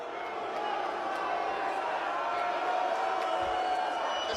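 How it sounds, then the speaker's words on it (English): A lucha libre wrestling crowd reacts to Chavo Guerrero with a continuous, roaring wash of voices and jeers, loud and sustained throughout, with occasional sharper shouts poking through. "The crowd voicing their opinion of Chavo Guerrero."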